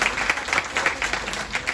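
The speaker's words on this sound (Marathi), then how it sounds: "तेव्हा एकदा जोरदार टाळ्या वाजून त्यांचं स्वागत" An audience at a programme claps to welcome guests, including a Buddhist monk from the Mahabodhi Vihara; a short burst of brisk, fairly loud applause.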